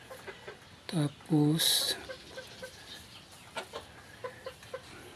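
Young free-range chicks about four months old cluck near the microphone, with two louder squawking calls and scattered soft clucks. Brief speech is heard among them.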